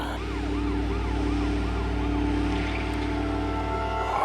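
A wailing ambulance siren rises and falls in a steady cycle, loud and close, over the low rumble of an engine.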